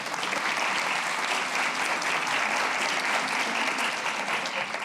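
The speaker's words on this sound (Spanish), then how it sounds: "Un aplauso para los panelistas, por favor" Sustained applause from an audience thanking a panel of experts at a discussion event, an even wash of many hands clapping at a moderate level, steady from start to finish.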